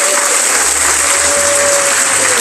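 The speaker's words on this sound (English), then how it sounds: "let's give him a round of applause and thank him for his service" Loud, dense applause from a crowd at a closing ceremony, honoring a long-serving man, with clapping holding steady throughout and a faint steady tone beneath.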